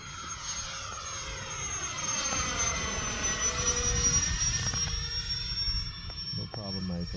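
An FMS A-10 Thunderbolt II RC jet at three-quarter power whines past with a high steady ducted-fan tone that rises and falls as it passes overhead, with a person talking over it.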